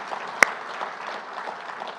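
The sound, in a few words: audience applauding at summit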